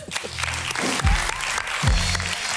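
Studio audience applause on a Turkish evening music quiz show rolls on as a steady broadband wash, with low musical swells and thuds surfacing beneath it at moderate loudness.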